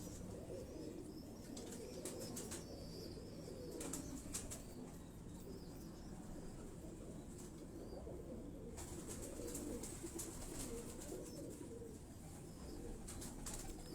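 Teddy pigeons coo and flap their wings at close range, the soft murmuring coos running continuously beneath several bursts of wingbeats, with no talk.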